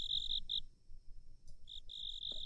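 Crickets chirp in steady high trills, broken by a short pause and then resuming. The sound is faint and continuous, with no voices.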